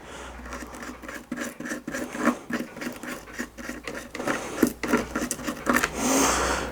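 Rapid rhythmic scratching of a wire brush scrubbing rust off vinegar-soaked metal parts for a scratch-built model steam engine, steady close back-and-forth strokes continuing for several seconds.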